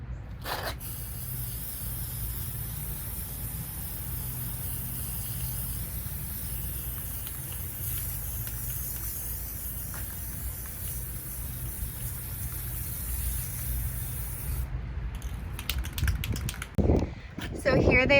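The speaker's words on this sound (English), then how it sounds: "once I started spray painting these" Rust-Oleum Metallic Gold spray paint hisses in a long, steady continuous spray outdoors on a patio, nearby and fairly loud, breaking off near the end into a few short bursts.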